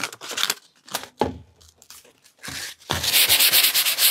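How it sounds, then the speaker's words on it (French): A painting canvas is lightly sanded by hand: a few short scratchy rubbing strokes, then a longer, steadier sanding rasp, close up and without talk. "tout ce que j'ai à faire, c'est de la poncer un petit peu"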